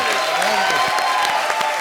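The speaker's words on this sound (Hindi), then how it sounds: "एक बार जोरदार ताली" Loud, dense applause from a comedy show audience, steady clapping filling the whole moment with no pauses.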